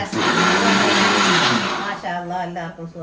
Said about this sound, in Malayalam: മിക്സി